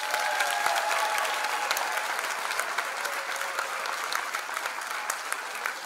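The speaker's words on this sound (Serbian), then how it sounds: "aplauz za naše goste" A crowd applauds a folk dance ensemble at an anniversary folk concert with a fifteen-year celebration, giving dense, steady clapping at an even level throughout with no voices over it.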